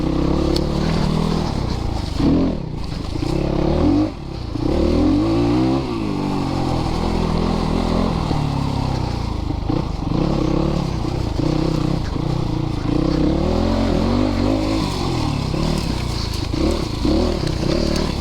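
A Christini AWD 250DS all-wheel-drive dirt bike engine revs hard and continuously while riding, rising and falling with throttle bursts against rushing wind, loud and close throughout.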